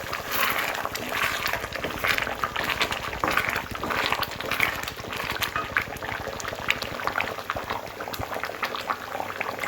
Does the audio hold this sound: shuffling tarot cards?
no